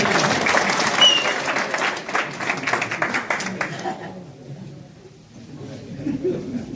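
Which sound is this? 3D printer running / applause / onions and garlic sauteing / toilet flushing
applause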